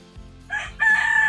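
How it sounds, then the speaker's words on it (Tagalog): A rooster crows nearby, a loud, drawn-out cock-a-doodle-doo rising and holding strong, with a quieter lead-in before the full call. "Hindi nakatiis ang manok. Gusto talagang sumingit."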